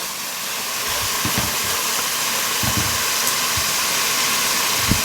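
Vegetables sautéing for a turkey ragu, giving a steady, loud broadband sizzle and hiss throughout, with a few soft low clunks from the pan underneath.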